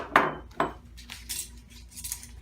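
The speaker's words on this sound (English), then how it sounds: "So we're gonna take these lids off." Two sharp metallic clinks as lids come off glass candle jars, followed by softer light rattles and handling noises, close and clear with no talking.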